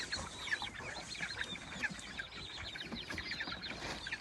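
A flock of about forty young chicks being herded into a chicken tractor, their dense, overlapping peeping and clucking heard continuously at low volume with no talking.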